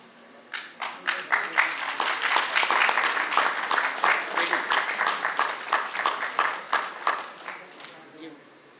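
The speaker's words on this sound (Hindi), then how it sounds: "जोरदार तालियों से मैम का स्वागत करें।" An audience at a stage play gives sustained applause welcoming a guest: dense, steady clapping that builds quickly and holds for several seconds before thinning out.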